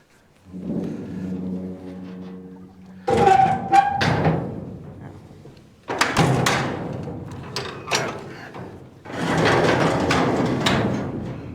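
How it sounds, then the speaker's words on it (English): A door on a farm building pig or freezer setting swings shut with heavy thuds and scraping clatter, several loud knocks in bursts, alone without talk. "We're going to close the door."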